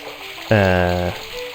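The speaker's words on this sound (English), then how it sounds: "The faucet creaked, coughed, and spewed out a stream of rusty-colored water." An old faucet in the adventure game Broken Sword lets out a single loud, droning groan for just over half a second, set against a quiet background.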